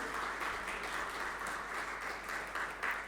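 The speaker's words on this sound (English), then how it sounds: "Everyone, please a good round of applause for him." Steady round of applause from a seated audience at a ceremony honouring a young Indian mountaineer's father, a dense wash of many hands clapping at even loudness throughout, with no one speaking.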